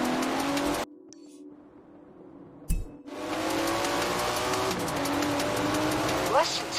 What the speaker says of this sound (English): Listen to that! Never heard a Datsun sound like that, have you?